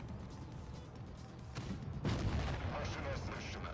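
Heavy tank cannon blasts boom in the game World of Tanks Blitz, one sharp shot followed by a louder rumbling impact, with a voice talking faintly beneath.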